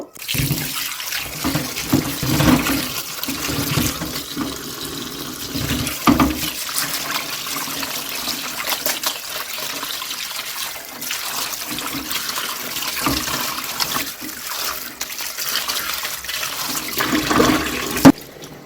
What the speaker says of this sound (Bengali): এখন সবগুলো কলিজাকে আমি ভালোভাবে ধুয়ে পরিষ্কার করে নিয়ে নেব